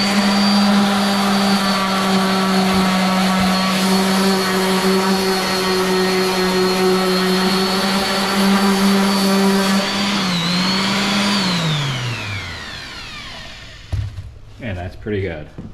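A handheld sander works a wooden floor in a baby nursery with a loud, steady motor whine. It then spins down in falling pitch, followed by a few light clunks as it is set aside.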